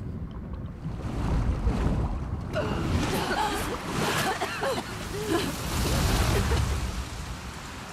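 Water splashes and churns in the video game Uncharted: The Lost Legacy, with close surf and wind-like rushing rising and falling over several seconds, and a voice talking over it.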